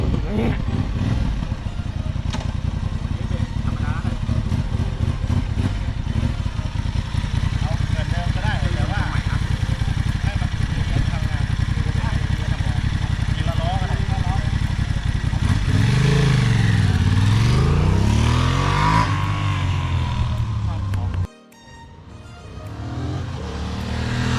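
A big-bike motorcycle with a large-piston two-cylinder engine runs with a loud, rough idle, then revs up and falls back before cutting off abruptly near the end.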